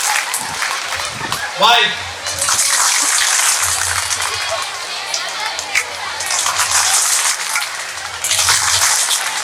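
Boys at an Independence Day event clap together in bursts of applause that rise, fade and return. A voice speaks briefly near the start.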